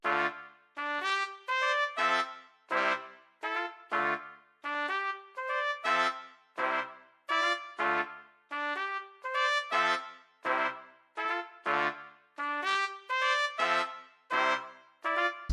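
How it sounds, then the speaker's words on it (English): Trumpet ensemble patch from the Chris Hine Horns Compact Kontakt bank plays a steady run of bright, punchy chords in a repeating rhythmic pattern, loud and alone with no talking. "So I just picked the trumpets A from this section"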